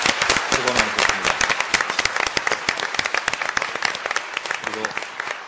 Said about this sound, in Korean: 뜨거운 박수 드립니다.